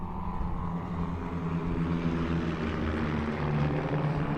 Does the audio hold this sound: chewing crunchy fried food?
no